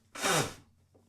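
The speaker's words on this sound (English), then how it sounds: "Hold on, I'm gonna sneeze." A single loud, close sneeze bursts out on its own, a short broadband blast lasting about half a second, followed by a faint trailing breath.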